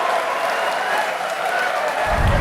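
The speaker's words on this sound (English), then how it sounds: "And there was a big applause." An audience breaks into loud, sustained applause, a dense wash of clapping that holds steady throughout and swells slightly near the end.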